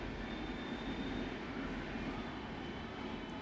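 Steady low rumbling of a passing train, constant and moderately distant, with a faint high whine, no talking.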